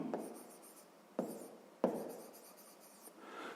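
Chalk or marker strokes on a board during a sixth-grade math lesson, a few distinct bursts of scratchy writing with short pauses between, close and clear with no talking.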